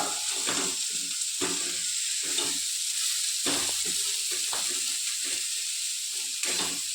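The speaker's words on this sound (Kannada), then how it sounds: "ಮೆಣಸಿನ್ಕಾಯಿ ಹಾಕಿಬಿಟ್ಟು ಸ್ವಲ್ಪ ಮಿಕ್ಸ್ ಮಾಡ್ಕೋಬೇಕು" Green chillies and fenugreek leaves frying and being stirred in a pan, a steady hiss of sizzling oil broken by repeated scraping stirs, close and continuous with no talking.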